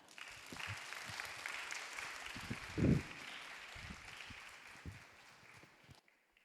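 A church youth congregation at a Sunday service claps to welcome the pastor to the pulpit: steady, soft, even applause from a roomful of people, with one brief louder swell midway before it stops abruptly.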